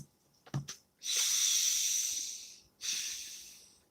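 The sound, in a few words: deep breathing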